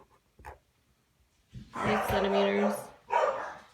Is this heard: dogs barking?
yes